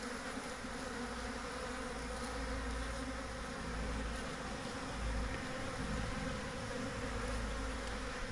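Swarm of honey bees near a hive, a dense, continuous buzzing drone that fills the whole stretch, steady and close with no voices.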